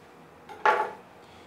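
A knife slices through a lime on a board, a single crisp cutting knock with a brief scrape, close and fairly quiet against a hushed kitchen.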